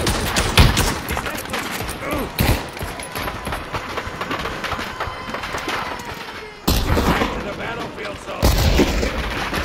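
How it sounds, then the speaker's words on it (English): Grenade blasts and gunfire on a D-Day battlefield in Pavlov VR: repeated heavy booms and rattling shots arrive in irregular bursts, loud and close, with a sudden cut to a denser barrage near the end. "And now, a grenade for this guy there."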